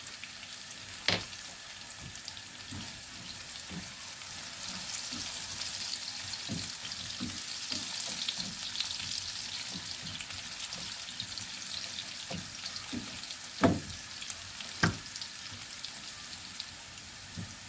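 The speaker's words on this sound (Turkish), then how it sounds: "soğanlarım kavruldu biraz" Onions fry in a pan with a soft, constant sizzle, broken by scattered sharp pops and clicks of stirring, heard close and alone.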